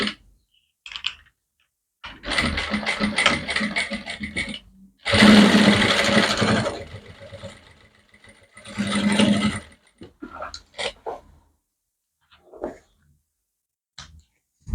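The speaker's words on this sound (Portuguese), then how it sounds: "A minha aqui é uma industrial, então eu vou passar um pezinho de máquina." An industrial sewing machine stitching fabric for a handbag, running in several loud whirring bursts separated by silent pauses and a few small clicks.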